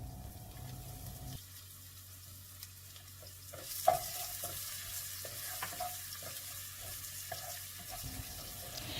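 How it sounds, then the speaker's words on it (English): Garlic fries in a pan with mixed Italian herbs and oil for a plant-based pasta. A soft sizzle is heard with scattered stirring taps, and it grows brighter and fuller partway through. "Let the garlic fry a little bit until it goes a bit brownish."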